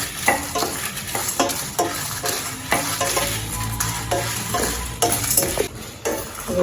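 Urad lentils and dried red chillies dry-roasting in an empty kadai for horse gram idli podi, with a spoon scraping and stirring in repeated strokes over a faint steady sizzle, close and fairly loud.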